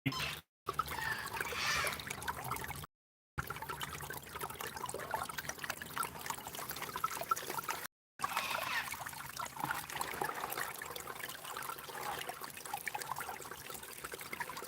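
Creek water flows and trickles steadily at close range, a continuous watery babble with a few brief dropouts.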